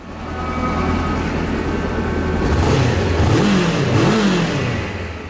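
A 2017 Honda CBR500R, a lower-displacement sport motorcycle on its factory exhaust, idles close by with a steady hum, then is revved in two rising-and-falling blips, fairly mild rather than loud.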